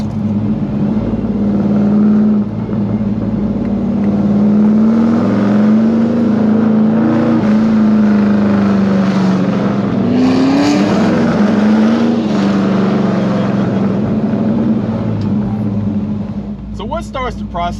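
Close and loud, a 1969 Chevelle SS Yenko tribute muscle car's engine roars continuously, revs rising and dipping in repeated throttle surges, with voices talking faintly underneath.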